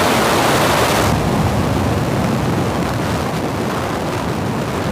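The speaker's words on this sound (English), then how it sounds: "Ignition. And liftoff Falcon 9." SpaceX Falcon 9 rocket lifting off on the NROL-146 mission, a loud sustained broadband roar that stays dense and powerful for the whole stretch, with a rumbling low end and no talk over it.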